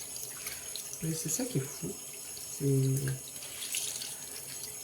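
Tap water runs steadily into a sink while a face is rinsed, with a hissing flow under brief splashes. Someone speaks briefly in French over it.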